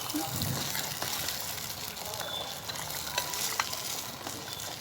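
Mutton biryani is stirred in a clay pot, a soft scraping and wet shuffling over a low sizzle, with a voice talking throughout.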